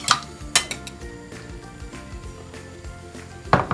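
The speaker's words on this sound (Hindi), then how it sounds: "एग में थोड़ा सा नमक डालेंगे और थोड़ी सी सफ़ेद मिर्च डाल के इसको अच्छे से फेंट के" Egg being beaten with salt and white pepper in a bowl, a few sharp clinks of utensil against the dish over soft scraping and stirring, close and without talk.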